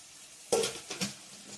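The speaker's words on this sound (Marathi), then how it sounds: "तेल टाकून ते लाल होईपर्यंत हलवायचे" Tomato being stirred in hot oil in a pan for a tambda-pandhra rassa, with a brief sizzle and a spoon scraping once near the middle, then a second fainter stir and scrape, with quiet pauses around them.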